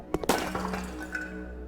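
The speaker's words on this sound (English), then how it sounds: "It's a nice smashing sound." In a Unity survival horror game, a glass pane smashes in one sharp crack, and bright shards ring and tinkle briefly as they scatter and fade.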